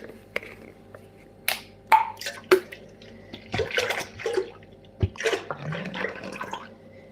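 Full milk is poured into a cooking pot as the second liter goes in, heard as intermittent splashing and gurgling bursts with scattered clicks and knocks in an otherwise quiet kitchen.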